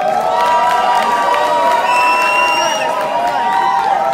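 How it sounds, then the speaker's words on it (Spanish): A festival gala crowd at the closing of KuirFest Bogotá 2018 cheers loudly, with high whoops and shrieks over continuous clapping, close and sustained throughout. "Bueno, aplausos para la número 2."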